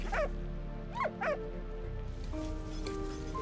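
Dog from the video game Valiant Hearts giving three short, high, falling whimpers close up over a steady low background hum.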